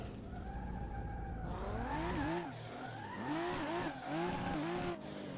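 Tires squeal in long, sweeping, wavering tones as a car drifts with a handbrake pull on a mountain road in Assetto Corsa, layered over steady engine drone that rises and falls through the corner.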